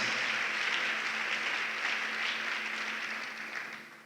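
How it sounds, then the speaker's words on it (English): A crowd claps in a steady, even wash of applause that fades slightly toward the end. "Can you clap hands for yourselves?"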